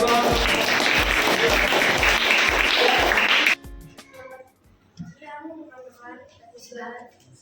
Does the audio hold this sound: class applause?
yes